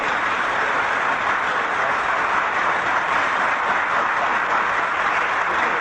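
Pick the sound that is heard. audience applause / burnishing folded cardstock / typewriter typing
audience applause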